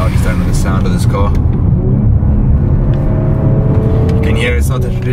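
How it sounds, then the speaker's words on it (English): A 2017 Audi RS5's turbocharged V6 engine growls and rumbles low as it downshifts, loud and close, with someone talking over it. "you get that little growl when you downshift"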